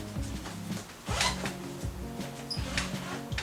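A zipper on the side pocket of a bag is pulled open in a few short rasping strokes, close and fairly quiet, mixed with light handling rustle.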